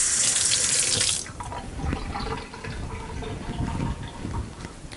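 Water runs from a kitchen sink tap as food is rinsed beneath it, a steady splashing hiss that is loudest at first, then turns to softer, uneven gurgling and trickling.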